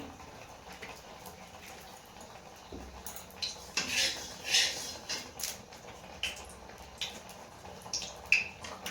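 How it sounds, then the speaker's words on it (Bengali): Fried potatoes are lifted out of a pan of oil with a metal utensil, giving faint, scattered scrapes and clinks against the pan over low kitchen background, with no talking. "আলুগুলো ভেজে নিয়েছি, এবার তুলে নেব।"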